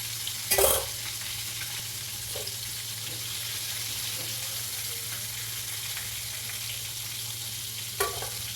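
Chicken pieces for homemade KFC fry in oil with a soft continuous sizzle and bubbling, broken by a couple of brief clatters near the start and end, with no one speaking.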